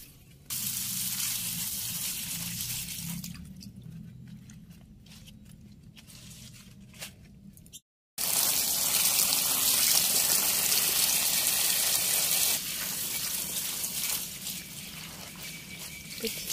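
Running water gushes and splashes steadily while freshly harvested rooftop-garden vegetables are rinsed. The flow drops to a softer trickle midway, pauses briefly, then returns strongly.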